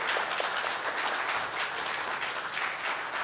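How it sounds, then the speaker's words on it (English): Audience applause in a church during a worship service, a dense continuous wash of many hands clapping at steady volume throughout, with no speech over it. "A round of applause."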